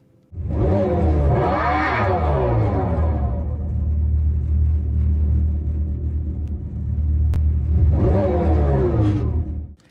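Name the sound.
electric car artificial engine sound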